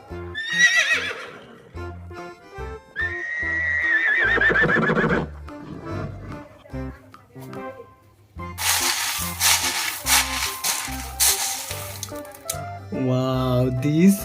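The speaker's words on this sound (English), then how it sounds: "Wow, this is horse." A toy horse sounds off up close with a shrill whinny, followed by snorts, a stretch of hoof clip-clops and another neigh at the end.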